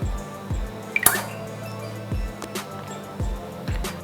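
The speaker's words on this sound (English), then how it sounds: "I start by pouring in my egg." Raw egg slides into the bowl of a stand mixer with wet, dripping plops and small splashes, a few close, distinct drops spread at a steady pace.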